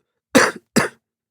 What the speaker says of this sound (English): a struggling cough